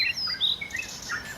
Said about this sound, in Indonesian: Yang kedua, suara kicauan burung.